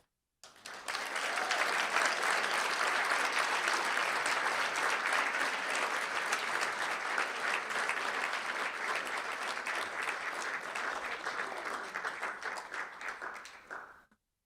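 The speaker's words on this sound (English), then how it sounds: "Let's give them one more big round of applause." An audience at a school board meeting applauds high school performers, a loud sustained round of clapping that swells quickly, holds steady for over ten seconds, then fades out.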